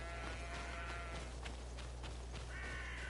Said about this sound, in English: Say hello to the sheep.